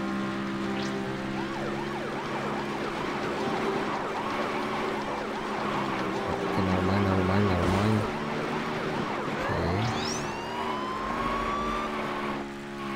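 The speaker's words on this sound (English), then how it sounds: "Okay, sirens." Wailing emergency sirens in the Beach Buggy Racing 2 video game, rising and falling over a steady buggy engine drone and busy race effects, with a player talking now and then.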